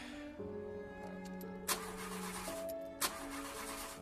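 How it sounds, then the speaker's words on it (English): A car engine in a Silent Hill film scene cranks without catching: two short bursts of starter grinding stand out over a sustained tonal musical drone, with no speech. "car won't start"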